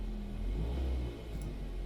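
A Ford Mondeo Mk3 with a Duratec HE petrol engine idling, a low, steady mechanical hum and rumble with a slight dip in level partway through, heard close and alone for about two seconds.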